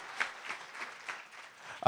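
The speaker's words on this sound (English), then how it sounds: "So how about a big round of applause for CKLB" A studio or event audience claps in a short, thin burst of applause that sounds somewhat distant and modest, ending with a sudden louder knock.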